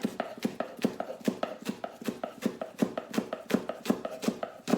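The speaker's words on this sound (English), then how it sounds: "Just chopping those up." Knife chopping rolled-up fresh herb leaves into a chiffonade on a cutting board, a steady run of about twenty crisp, close taps at a quick even rhythm, with no voices.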